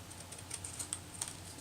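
Overhanging vellum being trimmed off a handmade Easter card, a handful of soft, crisp snips or cuts spaced irregularly over a quiet room.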